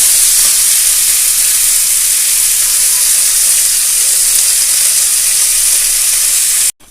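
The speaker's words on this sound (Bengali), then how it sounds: "বাকি যে তেলটা রয়েছে এই তেলের মধ্যে আমি উচ্ছেগুলোকে সুন্দর করে ভেজে নেব।" Bitter gourd pieces fry in hot oil with no salt or turmeric added, giving a loud, steady sizzle and hiss that runs unbroken for several seconds and cuts off abruptly at the end.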